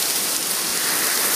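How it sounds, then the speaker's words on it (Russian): Heavy hurricane rain roars in a dense, steady hiss, loud and close, driven by strong gusting wind. "вы слышите сейчас шум урагана. Порывы ветра, шум дождя"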